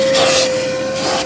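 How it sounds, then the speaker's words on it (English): Close, loud vacuum cleaner running inside a Proton Impian car interior, a continuous whine with a steady tone and brief rushes of suction as the nozzle moves. "I don't think this car has been hoovered out in"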